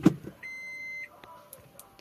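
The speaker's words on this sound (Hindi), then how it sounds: "जैसे ही आप रिवर्स गियर लगाते तो आपको बीप की आवाज़ सुनाई दे जाती है" Reversing beep of a 2022 Alto car when reverse gear is engaged: a single steady electronic tone lasting about half a second after a faint click, followed by a few soft clicks and faint higher blips in a quiet cabin.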